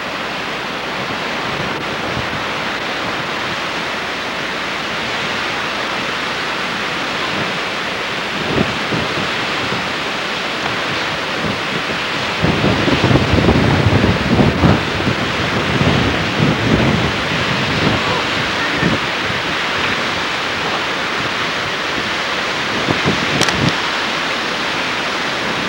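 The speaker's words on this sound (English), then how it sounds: "Really windy up here." Strong wind roaring steadily against the microphone high up in Hawaii, with gusts swelling louder in the middle; no voices.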